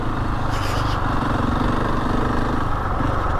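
Husqvarna 701 Enduro motorcycle engine running steadily on a winter mountain-pass ride, a loud, continuous droning rumble with a slight rise in revs, close and alone with no talk.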